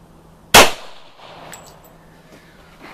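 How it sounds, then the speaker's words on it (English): Gunshot fired at a row of wooden boards backed by rebar: a single sharp, loud crack followed by a brief decaying ring and faint distant knocks. "let me take another shot away from the third board, or away from the rebar"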